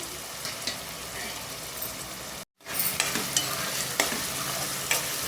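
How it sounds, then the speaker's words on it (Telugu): Green chilies frying in peanut oil alongside onions, a steady broadband sizzle with occasional stirring clicks and scrapes; the sound cuts out briefly near the middle, then resumes at similar loudness. "ఇప్పుడు పచ్చిమిర్చి కూడా వేసుకొని ఫ్రై చేసుకున్నాం"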